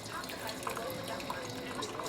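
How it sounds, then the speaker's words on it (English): A Ninja Dualbrew 12-cup coffee maker brewing, with faint trickling and dripping of water under a quiet background hum, steady throughout. "so we'll just kind of hang out and watch it and do its thing here."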